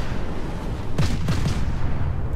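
Heavy naval guns of the battleship Nelson firing in World of Warships, two or three deep booming salvos in quick succession standing out over steady low rumble, with no talk.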